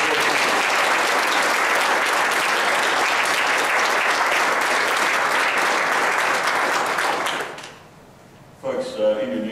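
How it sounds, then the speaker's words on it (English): Church congregation giving a long, steady round of applause, dense clapping that fills the room for several seconds before fading out, followed by a brief moment of talk. "give Amanda a very good round of applause"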